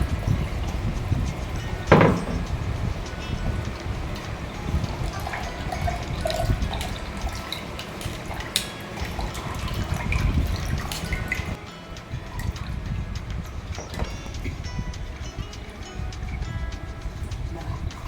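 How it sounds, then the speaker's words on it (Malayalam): Lemon juice trickling and dripping steadily through a strainer, with a few light clinks and a sharper tap early on, close and fairly quiet. "ഇപ്പം ഞാൻ അരിച്ചെടുക്കുകയാണ്."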